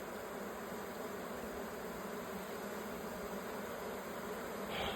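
Honeybees buzz around an open hive during a spring inspection, a dense continuous hum close to the listener with no talk.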